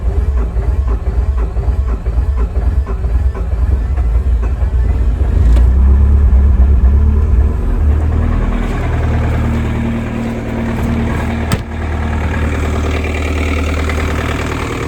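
Steady low rumble of a 2005 Chevy Silverado salt truck engine idling at close range, loud and continuous, with a brief sharp clunk near the end and no talk.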